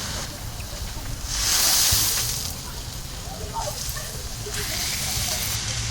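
Smash burger patties sizzling on a Blackstone griddle, a steady close hiss and crackle that swells briefly and continues throughout, with a voice talking over it.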